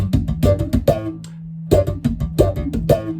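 Bass guitar played with a double thumb slap technique, rapid percussive slapped notes in quick bursts with a short held note in the middle, loud and close with no talk.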